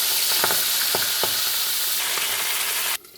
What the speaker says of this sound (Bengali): মাছগুলোকে আমি ভালো করে ভেজে নিয়েছি